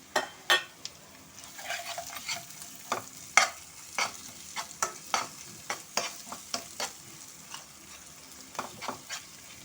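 Ginger paste frying in a pan with mint, coriander and curry leaves while making fried fish, giving a steady low sizzle broken by repeated scraping stirs of a utensil, close and moderately loud.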